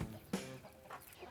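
Chickens in a backyard coop on a small organic farm give a few soft clucks and vocal bursts, one louder call near the start and fainter murmurs after, close by in a quiet setting.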